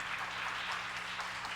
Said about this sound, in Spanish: demos un aplauso al doctor Herrera